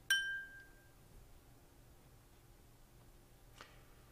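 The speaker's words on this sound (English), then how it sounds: "I'm going to ring the bell so you can press the pause button." A single small bell rings once at the start, bright and clear, with a tone that fades over about a second, followed by near silence apart from one faint tap later on.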